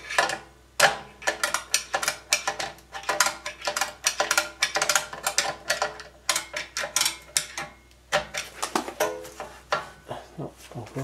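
A ratchet wrench tightens a fastener while rear wheel bearings are replaced on a Mercedes, producing close, steady rhythmic clicking strokes that repeat evenly with brief pauses throughout.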